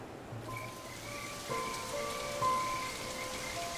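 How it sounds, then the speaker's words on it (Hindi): Steady rain falls on open savanna ground in the Serengeti, a continuous even patter that rises a little midway, with faint tonal sounds drifting over it and no voices. "इतनी बारिश को भी आज ही आना था।"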